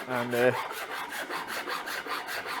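Japanese saw rasp scraping material from an ash Strat-style guitar body, a steady series of coarse rasping strokes in fairly even rhythm, close and moderately loud, with a brief spoken word near the start.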